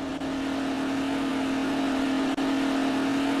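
Big Bud tractor with an 1100-horsepower engine pulling uphill in Farming Simulator 19, a steady loud drone with a strong low hum that holds without break throughout.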